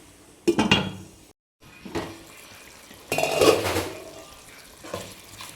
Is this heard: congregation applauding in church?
no